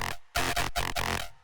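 A dry FM bass patch built in Serum, with no effects, blares in several gritty, harsh bursts with brief gaps, loud and close, playing alone.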